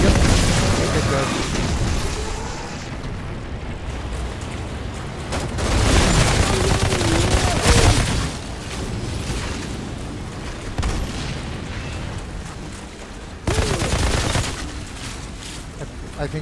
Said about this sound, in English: I think he threw his grenade at himself or something.